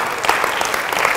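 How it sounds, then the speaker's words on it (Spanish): Church congregation applauding steadily, a dense even wash of clapping that fills the whole moment with no speech over it. "Denle aplauso."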